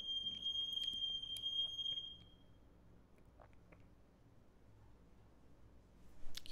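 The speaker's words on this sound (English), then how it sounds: "Those are the smoke alarms that are going off" Smoke alarms go off in quick, high electronic beeps for about two seconds, faint and thin over a low background hum.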